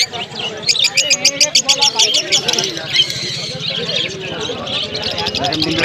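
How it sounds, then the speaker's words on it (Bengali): Cockatiels at a bird market chirp in rapid, repeated bursts, dense and close, with people talking over the chatter. "কোকাটেল।"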